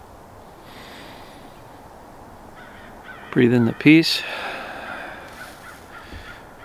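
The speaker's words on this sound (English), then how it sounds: "You hear the crows in the background?" Crows cawing outdoors on a calm winter day, two loud close caws in quick succession midway followed by fainter calls, with a voice speaking softly beforehand over quiet ambient air.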